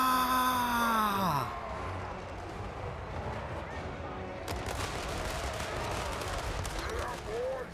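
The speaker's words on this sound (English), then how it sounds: "Bit of a ragged volley at the end, but it'll do." A musket volley fired by a Chaos Dwarfs infantry line in Total War: Warhammer: a ragged crackle of shots breaks out midway after a fading whistling tone, over a steady battle rumble, with a voice speaking.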